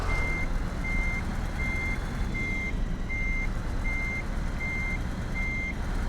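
Truck reversing alarm in a truck driving video game, eight evenly spaced beeps repeating over a steady low engine rumble, clear and continuous with no talk.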